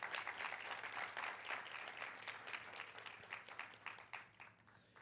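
A church congregation claps together for the Lord, dense sustained applause that fills the room at steady strength and tapers slightly toward the end, with no voices over it.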